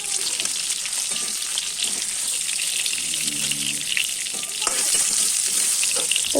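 Pieces of bhola fish frying in oil in a pan, a dense, even sizzle with crackling that swells louder near the end, heard close up.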